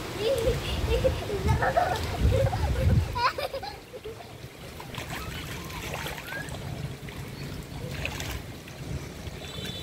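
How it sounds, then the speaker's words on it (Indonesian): Waves splashing and sloshing in flood water after heavy rain, with continuous watery turbulence and splashes close by while children and adults talk throughout. "Ada ombak nih."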